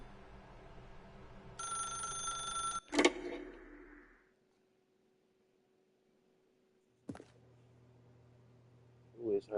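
Old-style telephone bell ringing in The Stanley Parable video game, a bright metallic ring lasting about a second before cutting off, then silence and later short clicks and handling noises.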